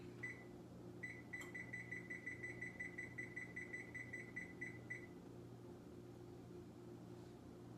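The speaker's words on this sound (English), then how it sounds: "you're gonna set your timer for 20 minutes with the lid on" A kitchen timer being set for baking artisan bread, a faint fast run of repeated electronic beeps lasting a few seconds over a quiet, humming room, then stopping.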